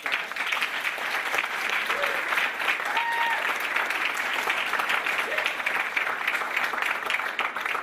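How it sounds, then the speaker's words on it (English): An audience at a business speaking event breaks into sustained applause, dense steady clapping from a large crowd lasting throughout, with a few faint voices mixed in. "give these two guys a round of applause"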